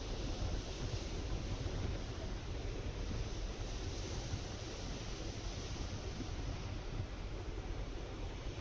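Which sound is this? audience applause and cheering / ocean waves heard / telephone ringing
ocean waves heard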